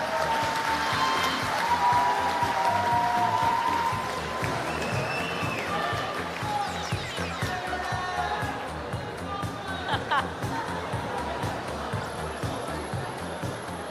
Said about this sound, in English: May I have a warm round of applause.